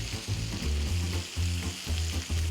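Food frying in a pan as it is turned to brown, a steady, close, loud sizzle with rhythmic crackling pulses throughout and no talking.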